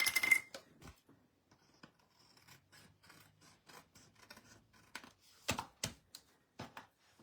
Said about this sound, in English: So let's just cut this.